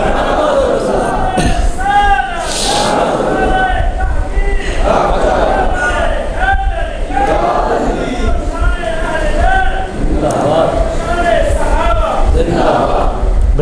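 At a religious gathering, a large crowd chants religious slogans in loud, rhythmic, repeated calls, with the voices swelling together in waves over continuous background noise.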